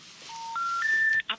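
A telephone being dialed: three rising touch-tone beeps held in sequence, then a short burst of quick tones, clear and close at moderate level.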